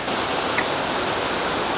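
An artificial waterfall in Seoul pours with a constant, dense hiss of falling water, loud and even throughout the short stretch, with no voices.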